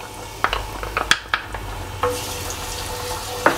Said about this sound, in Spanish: Cuando el aceite ya esté caliente, le vamos a echar los ajos, que los hemos picado muy finitos.